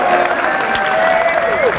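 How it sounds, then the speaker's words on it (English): Applause from an audience at a school magic show, a steady wash of clapping and crowd noise lasting the whole stretch, with a faint tonal sound drifting through it. "Give him a round of applause."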